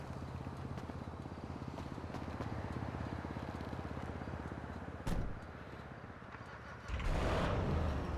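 Annis Hellion car in Grand Theft Auto V, with a steady idle burble followed by a click and then a louder engine start-up that surges near the end.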